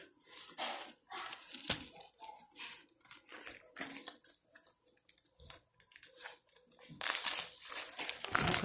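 Cosmetology clips being packed into a bag for a state board practical, with close plastic crinkling and rustling in irregular bursts and pauses, growing louder toward the end.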